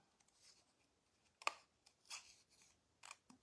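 Scissors snipping paper while cutting around flower petals for a children's card craft, a few quiet, separate cuts with pauses between them, close by and alone without talk.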